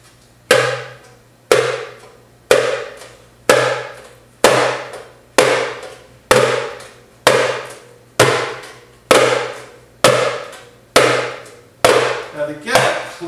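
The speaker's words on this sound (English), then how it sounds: "To get a clear pop, again, it's really all about shaping of the hand to where you're just capturing that air right at the top of the drum" A darbuka is struck with a cupped-hand pop stroke, giving about a dozen sharp, close, evenly spaced slaps that each decay quickly, with a faster flurry of hits at the end and no talk.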